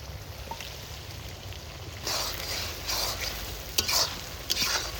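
Garlic paste frying in a pan with onion and ripe tomato while being stirred: a low, steady sizzle, then louder scraping stirs and clinks in the second half.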